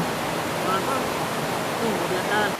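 Steady rush of falling water at the Muara Karing waterfall in Merangin Geopark, Jambi, a broad continuous wash heard close, with faint brief tones rising over it.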